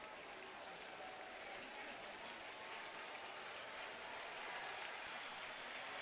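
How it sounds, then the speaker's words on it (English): Baseball stadium crowd at Cleveland applauding a pitcher leaving the mound with a 1-0 lead, steady dense clapping and crowd noise throughout, with commentators talking under it. "So this crowd who has seen Justin Masterson toss a gem, trying to get him into the dugout"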